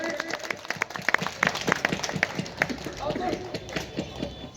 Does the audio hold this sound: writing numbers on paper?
no